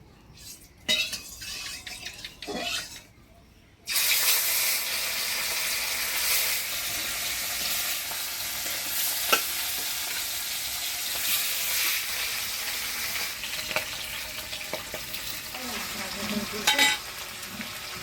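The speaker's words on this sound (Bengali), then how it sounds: "এবার এই কড়াইতে মাছগুলো ভাজি নেব" Fish frying in oil in a wok in a village kitchen, a loud sudden burst of sizzling that continues steadily, with occasional clinks of a utensil and faint talk at the start.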